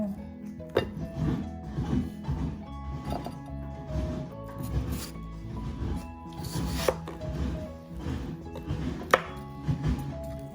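A knife cuts a watermelon into pieces, with repeated soft chopping thuds and wet crunches against a board, moderately close, under faint background sounds.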